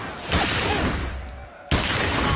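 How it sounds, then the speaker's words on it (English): Repeated gunfire in a video: a loud, dense barrage of shots and blasts that runs on, dips briefly, then resumes with a sharp new burst, with no voices over it. "he's shooting them all in the dick"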